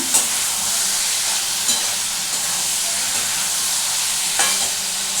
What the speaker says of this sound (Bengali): দেখো এবারে মিশিয়ে দেবে এর মধ্যে কতগুলো কাঁচা লঙ্কা, দিয়ে একটু নাড়াচাড়া করলাম